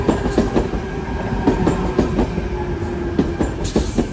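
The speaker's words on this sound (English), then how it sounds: "Central Sydney Terminal service arriving into platform one." Sydney suburban train pulling into a platform, with rhythmic clickety-clack of wheels over rail joints and a steady rolling rumble, fairly close and continuous.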